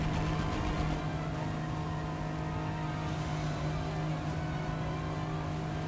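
Drones attack a car in the 007: Blood Stone game, a steady droning engine hum with a low buzzing tone that holds at an even loudness throughout.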